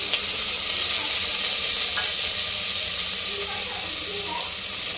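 Tomatoes go into a pan of pinkish frying onions for a prawn rice dish, and a steady, loud sizzle with faint stirring continues throughout.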